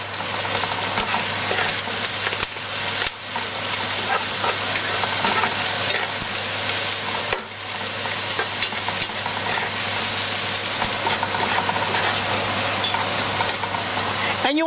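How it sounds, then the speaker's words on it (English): Kale with vegetable stock frying over medium heat in a pan, a steady loud sizzle with frequent stirring scrapes running throughout, no voices. "you want to stir fry the kale on medium heat for about 3 to 5 minutes"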